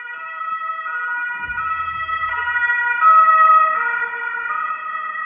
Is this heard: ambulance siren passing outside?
yes